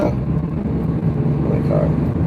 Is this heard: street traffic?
yes